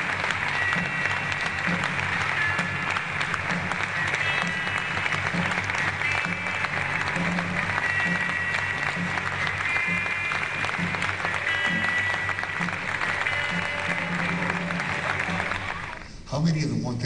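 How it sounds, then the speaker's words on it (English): Sustained audience applause at an event welcoming Dr. Daniel Ellsberg, a dense, steady roar of clapping lasting about sixteen seconds, with faint tonal hints and possible voices mixed in, before dropping off abruptly at the end. "Please join me in applause and welcome Dr."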